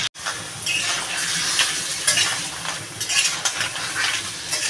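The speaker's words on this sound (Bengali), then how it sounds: "এই মশলাটা এই কাঁকড়াটার ভিতরে দিয়ে কষাবো ভালো করে।" Crab fries in a pan at home while ground spice paste is stirred through it, making a continuous close sizzle with scraping and stirring scrapes and occasional clinks of a utensil against the pan.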